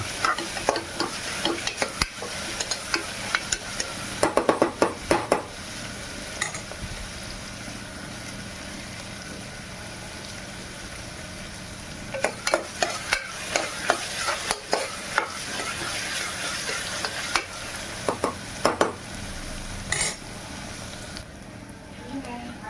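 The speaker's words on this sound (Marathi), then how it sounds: "आपण ना कांद्याला तेलामध्ये फ्राय करून घ्यायचा. शेलो फ्राय मस्त लालसर झाला पाहिजे" Onions shallow-fry in oil while being stirred, a constant sizzle punctuated by clusters of scraping spoon strokes against the pan, with quieter stretches between the bursts.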